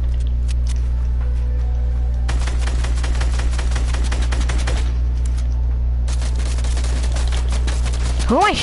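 Video game shooter gunfire in two long stretches of rapid, crackling automatic shots over a constant low hum, loud and close, with a brief whooshing effect at the end.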